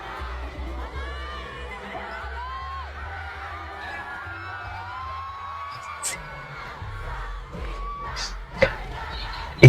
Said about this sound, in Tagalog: Grabe yung crowd sa New York